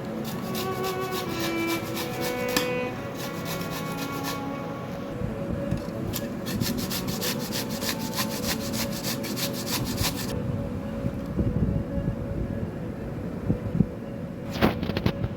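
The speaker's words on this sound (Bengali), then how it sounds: "এই গেটার দিয়ে প্রথমে এটাকে আমি গেট করে নেব।" Raw mango scraped against a hand grater into fine shreds, a steady rhythmic rasping that runs close and loud for about fifteen seconds, with no talking.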